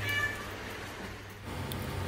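Cats meow at a rescue shelter caring for dozens of cats and dogs, with brief faint high calls near the start and end over a steady low background hum.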